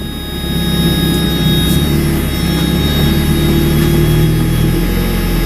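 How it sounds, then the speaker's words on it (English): A Mazda Miata engine with a fault idles high and stays up, a steady loud droning hum with a faint whine above it, unchanging throughout with no voices. "it's like it's over boosting the idle and it's staying up"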